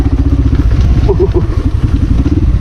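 A motorcycle rides through slick mud on a snowy Phulchowki hillside, its engine a steady, close low rumble with faint clatter, while someone talks over it throughout.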